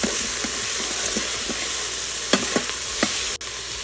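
A spoon stirs sazon seasoning into a pot of bean soup, soft scrapes and knocks against the pot over a constant simmering hiss, with a few sharper clinks near the end.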